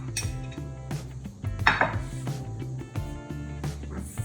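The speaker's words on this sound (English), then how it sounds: "I'm gonna remove the shrimp and put them on this plate so we have them ready to go." Grilled shrimp are moved onto a plate with repeated metallic clinks and scrapes of a utensil against the cooking surface and dish. The sounds are close and irregular, with no talking.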